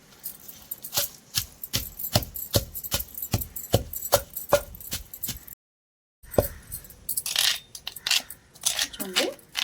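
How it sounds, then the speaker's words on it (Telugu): Curry leaves and tomato pounded in a stone mortar for a Telugu chutney, a steady series of sharp, evenly spaced thuds with clinks, a short pause, then rougher, irregular pounding close by. "కరివేపాకు కూడా వేసుకొని దంచుకుందాం."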